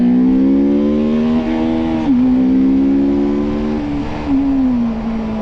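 A TVS Apache RTR 310 motorcycle engine in urban ride mode revs steadily with a loud, close, buzzing drone, its pitch rising and dipping a few times over several seconds. No voices are heard.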